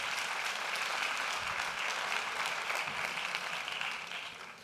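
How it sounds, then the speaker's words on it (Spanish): An audience at a distinguished forum on artificial intelligence applied to cancer applauds a speaker named Carlos, a steady, fairly distant wash of many hands clapping that tapers off at the end. "Un fuerte aplauso para Carlos."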